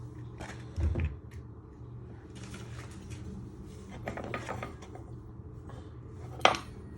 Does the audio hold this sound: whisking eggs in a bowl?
yes